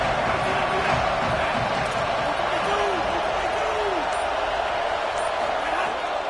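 Football stadium crowd roaring steadily and loudly throughout, with a dense wash of cheering and a few whistles rising over the din, while a commentator talks underneath.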